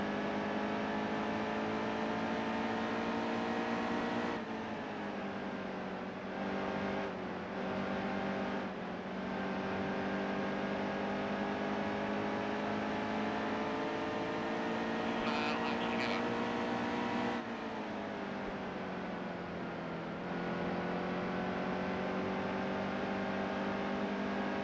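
Race truck engines drone in the NASCAR Heat 2 racing game, a sustained buzzing whine that dips and shifts in pitch as the trucks run, with brief bursts of higher noise, loud and continuous.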